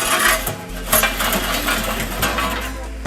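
Pizza peel clinking and scraping against burning wood inside a wood-fired oven as logs are shifted, a run of close metallic knocks and clatters over a steady low fire rumble.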